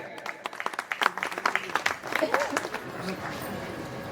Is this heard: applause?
yes